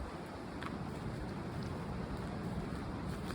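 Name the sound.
wind at Dameron Marsh nature preserve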